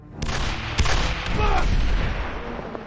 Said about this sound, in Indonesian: Dan aksi baku tembak pun tak terelakkan lagi.